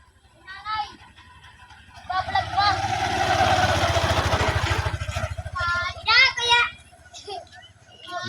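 Motorcycles ridden by kids idle and rev close by, the engine swelling loudly for a few seconds before dropping back, while children chatter and shout over it.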